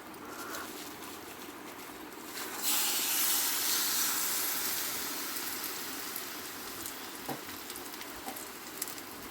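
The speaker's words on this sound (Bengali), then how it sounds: "এবার আমি গুড়টা তেলের মধ্যে দিয়ে দেবো" Jaggery goes into hot oil in a pan for sweet mango pickle, giving a steady low sizzle that swells into a louder, bright steaming hiss partway through and then settles into continuous frying.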